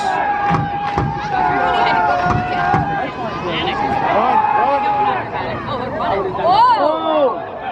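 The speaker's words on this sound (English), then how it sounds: "the Eagles sideline trying to get the crowd into the game, chanting defense, defense" Crowd noise along the Eagles sideline at a semi-pro football championship game, with people shouting and chanting together amid busy chatter and a commentator's voice over the top.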